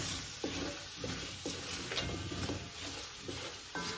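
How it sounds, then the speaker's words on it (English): Diced potato sautéing in a pot, a quiet steady sizzle with soft scraping stirs recurring every second or so, no talking. "So we're gonna saute this."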